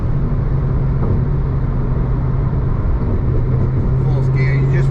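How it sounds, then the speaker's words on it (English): A Ford Focus ST3 engine pulls hard in fourth gear with a steady, loud droning hum heard from inside the cabin, while someone talks over it throughout. "Fourth gear, you just feel the pull of the car. Very torquey engine"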